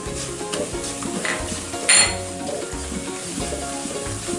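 A spatula stirs and scrapes through macaroni, egg and ground spices (turmeric, garam masala, meat masala) sizzling in a hot pan, with a brief louder clink near the middle.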